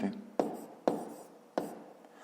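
A pen writes math on paper in three quick scratchy strokes, each a sharp onset that fades away, close and fairly quiet.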